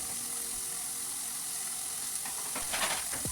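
Coriander leaves fry in a pan for pulao with a steady, hissing sizzle, joined near the end by a few scraping stirs of a spoon against the pan.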